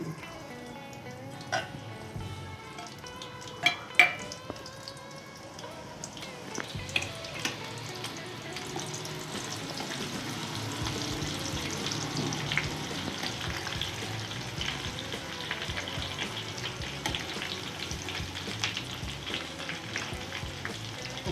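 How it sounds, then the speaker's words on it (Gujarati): Green chillies sizzle and crackle in hot oil for dry-fruit poha chivda, a steady frying hiss with occasional louder pops and stirring clatter, no one speaking. "હવે આપણે આ લીલા છેલ્લે મરચાં તરશું"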